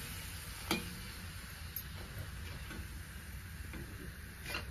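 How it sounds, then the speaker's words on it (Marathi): Spinach and rice papad frying in hot oil, giving a steady close sizzle with a few faint crackles and pops throughout and no voices. "तर आता तेल छान असं तापलेलं आहे. मी पापडी टाकून घेतली."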